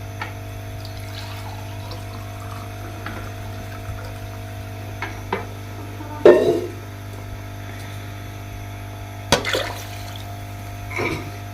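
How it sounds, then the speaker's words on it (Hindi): Water in a cooking pot for beef yakhni pulao simmers and bubbles softly with a faint steady hiss, broken by a few sharp clatters. "पानी ऐसे उबलने लग गया है।"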